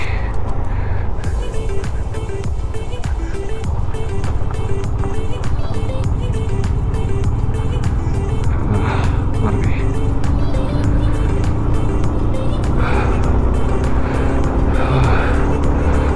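Motorbike engines labouring up the steep switchback mountain road of the Gata Loops in Ladakh, a loud continuous engine drone with rising strain across the climb, joined at times by a voice talking and wind noise.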